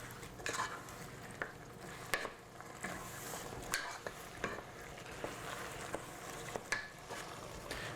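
Fish, tomatoes, beans and spices stirred together in a pan, a soft sizzle underneath repeated scraping clicks of a utensil against the pan at an irregular pace, close and fairly quiet.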